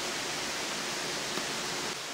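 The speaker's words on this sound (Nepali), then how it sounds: "पानी परेको हेर्नुहोस्" Rain falling steadily, a dense, even hiss that holds at a constant level without pause and with no voices.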